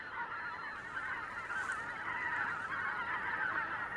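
A flock of geese honking continuously, a dense overlapping chorus of calls that holds steady throughout without pause, with no voices present.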